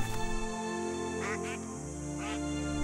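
A duck quacks a few times, close and fairly loud, over a steady background of documentary music.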